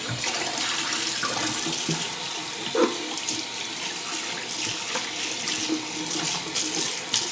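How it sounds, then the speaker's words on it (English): Tap water runs steadily into a sink while a man rinses off during a shave, a continuous close splashing stream with small bumps where hands or razor pass through, no talking. "Let's just rinse off real quick."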